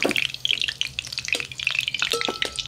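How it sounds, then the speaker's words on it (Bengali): Potatoes frying in oil are stirred in a pan, close crackling sizzle broken by rapid scraping and clattering strokes, no voices. "আলুগুলো অল্প নেড়ে দিই"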